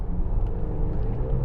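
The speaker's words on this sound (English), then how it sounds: "4-cylinder engine sounds strained under hard acceleration" Volvo XC90 T8 plug-in hybrid SUV with a four-cylinder petrol engine working hard under heavy acceleration, a steady low, strained engine rumble that stays loud and close throughout, with no talk.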